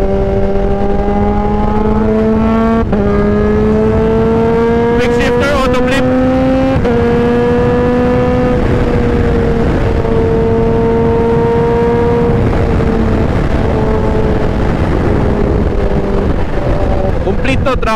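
A 2021 Kawasaki ZH2 motorcycle engine revs loudly and steadily, its pitch climbing and then stepping down abruptly at each quick-shift, repeating through several gears over a constant rumble.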